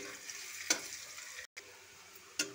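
Onion frying in oil with bay leaf, cumin, cardamom, cloves and cinnamon for chicken biryani, a quiet steady sizzle broken by a couple of sharp spoon scrapes and one brief dropout.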